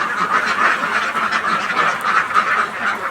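Domestic ducks quack close by, several birds calling over one another in rapid, overlapping bursts that form a continuous, loud chatter with no pause.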